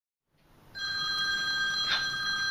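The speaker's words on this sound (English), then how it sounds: "It's 6:30. Time for Mrs. White's Sunday night phone call" Telephone ringing for a Sunday night call from a school: a steady, bright electronic ring that starts after a short silence and continues evenly and moderately loud, with no talking.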